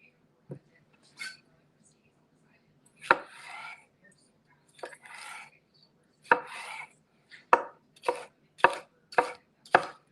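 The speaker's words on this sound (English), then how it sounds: "I'm just gonna cut this into some small pieces, small herb pieces, and add that in there." A knife chops fresh herbs on a cutting board for tzatziki, starting with a few scattered cuts and then settling into a run of sharp, evenly spaced strokes, heard close in a quiet kitchen.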